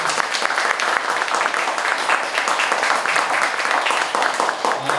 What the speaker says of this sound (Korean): 저희 김세진 교수님께 한 번만 더 박수 한번